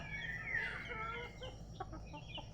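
Native chickens cluck at morning feeding time, with a clear rising call early on followed by short, scattered clucks at close range against a low background hum.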